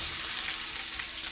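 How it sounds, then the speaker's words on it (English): Onions sizzle in oil in a hot wok, a steady, close crackling hiss with no voices over it. "You're gonna put about 2 tablespoons of oil in the wok. We're gonna start with our onions."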